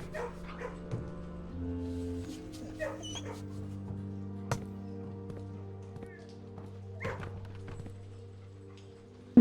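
Dogs in a kennel in the video game Blue Prince, with soft yips and whimpers over a steady musical drone, faint and intermittent rather than loud barking.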